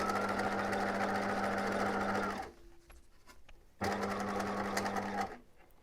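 A sewing machine stitches a fabric pencil case in two close, loud steady runs of whirring mechanical hum, separated by a short quiet pause with light clicks before it starts again and then stops.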